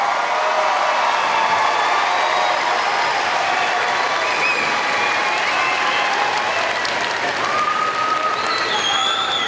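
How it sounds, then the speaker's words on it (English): A large audience applauds at a university commencement ceremony, a loud, sustained roar of clapping filling the hall evenly, with faint cheers mixed in. "I'll give them a big round of applause for what they've done for you."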